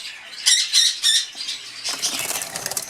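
Latino black-eyed lovebirds in a breeding cage squawk in three sharp close bursts, followed by a busier stretch of wing flapping and scratchy chatter.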